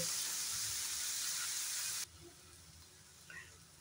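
Onions fry in a pan for aloo bharta, a steady bright sizzle and hiss that drops suddenly to a quieter simmer halfway through, with a faint clink near the end.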